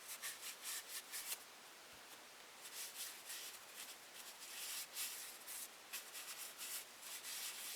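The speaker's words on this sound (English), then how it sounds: "periodically just rub some paste wax in here" Paste wax is rubbed by hand onto a wooden ventriloquist dummy, giving soft close brushing strokes in an uneven back-and-forth rhythm, faint and quiet.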